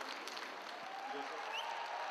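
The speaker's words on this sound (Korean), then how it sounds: "누군가 등장하자 환호가 쏟아집니다" A packed crowd at a large event breaks into steady clapping and cheering as someone appears, a dense, continuous wash of applause heard from within the audience.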